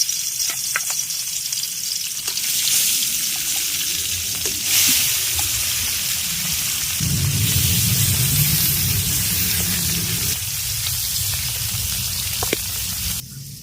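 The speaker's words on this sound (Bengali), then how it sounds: "এবার তেলের মধ্যে লবণ আর হলুদ মাখিয়ে রাখা মাছগুলো দিয়ে দেবো" Steady loud sizzling and crackling of turmeric-and-salt-rubbed fish frying in hot mustard oil, continuous throughout with occasional stirring and spattering, no voices.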